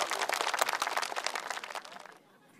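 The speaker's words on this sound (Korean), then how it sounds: "박수 보내세요" A short burst of applause from a small group at a traditional market singing event in Sunchang, dense clapping that thins out and stops abruptly after about two seconds.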